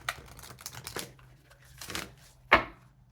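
Tarot cards are shuffled and riffled in short, crisp bursts, ending with a sharp snap as the deck is tapped together; close and fairly loud, no talking.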